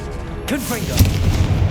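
Confringo blasting curse explosion in the Hogwarts Legacy video game: a sharp burst with a booming low tail, following a spoken spell cry, with a bright crackle and rumble continuing after the blast.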